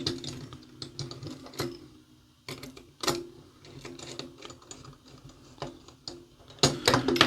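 Small screws being driven into a 1:2 scale T-800 model, rapid irregular clicks and ratcheting ticks close by, coming in bursts with short pauses between.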